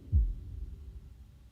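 A single deep, muffled heartbeat thump with reverb turned all the way up rings out, then fades into a low, reverberant rumble.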